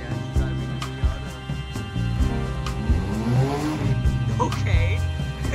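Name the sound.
1994 Mazda Miata being driven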